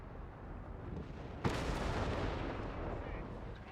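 A Bishop self-propelled artillery bombardment in the video game Company of Heroes 2 lands as a single sharp, loud boom followed by a sustained roar of rumbling battle noise.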